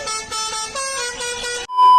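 Vehicle horn blaring in a Hindi web series, a loud sustained honk repeated in several pulses with a brief break before one last blast, with no voices.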